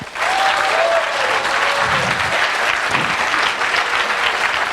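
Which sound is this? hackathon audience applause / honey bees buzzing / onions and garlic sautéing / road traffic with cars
hackathon audience applause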